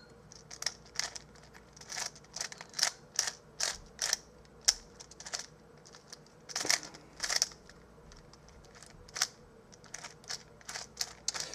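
A 4x4x4 edges-only puzzle cube with vinyl stickers is turned by hand, giving a rapid series of crisp plastic clicks and snaps, close and clear, in irregular bursts with brief pauses between turns.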